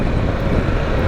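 A Harley-Davidson Pan America motorcycle engine drones loud and close while riding on cold roads, a steady, dense low rumble with no breaks and no speech.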